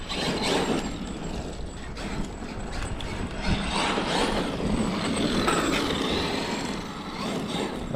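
A Traxxas X-Maxx Ultimate RC truck on Method RC Geoform belted tires drives outdoors, giving a steady, loud, close whir and clatter of motor, drivetrain and tires throughout, with no talking.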